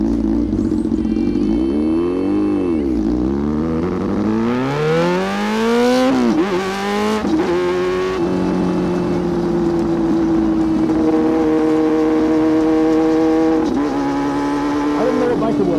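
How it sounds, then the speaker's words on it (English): A motorcycle roars past on the street, its engine note sweeping up and down in pitch as it revs, loud and close, then settling into a sustained drone as it pulls away. "Bike spotted."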